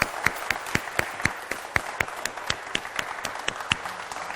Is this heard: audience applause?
yes